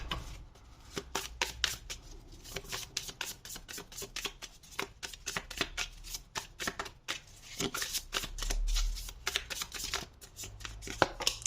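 Rapid riffling and flicking of a tarot card deck, repeated bursts of crisp slaps and shuffles with a few pauses, fairly close and quiet.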